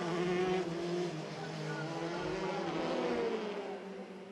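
Formula 3 race cars scream down the Monza straight, a high, sustained engine whine with shifting pitches from several cars running close together, under continuous commentary.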